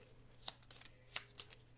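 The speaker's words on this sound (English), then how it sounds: "Shuffling up the cards." Cards from the Big Dig board game being shuffled, heard as three quiet, brief riffling bursts spread over a couple of seconds against a soft room hum.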